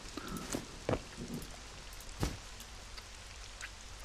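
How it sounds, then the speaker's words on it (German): Rain patters in the survival video game SCUM, a faint steady drizzle with scattered louder drops and occasional thuds. "ist bestimmt eine Uhrzeit, in der ich das Spiel betrete und dann da irgendwie immer Regen kommt, oder?"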